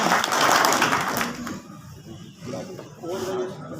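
Applause and clapping greet a party leader at a Bharatiya Janata Party meeting in Bhadra, a dense burst of crowd clapping at the start that fades into quieter murmur, with a voice talking faintly near the end.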